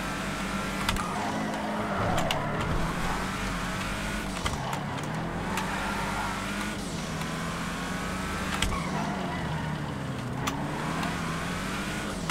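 Muscle car engine, a GTT, runs steadily around a tight timed race track in a video game, a continuous mid-loud drone with slight rises and dips in revs and a few brief sharp clicks.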